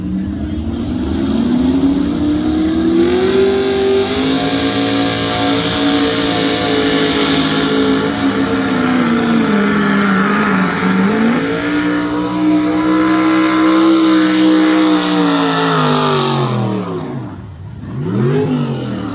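A half and half truck with cast-iron block and heads roars loud and close at a county fair truck and tractor pull, its engine note climbing and holding under heavy load before dipping sharply near the end.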